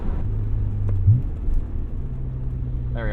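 Engine of a 1999 Dinan-tuned BMW M Roadster drops a gear on a downshift, with a brief rising rev blip in the middle over a steady low rumble, heard from inside the car.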